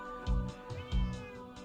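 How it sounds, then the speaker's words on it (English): Nearby a cat gives two short, clear meows in quick succession followed by a softer chirp, close to the microphone and with no voices over the calls. "That was still the cat."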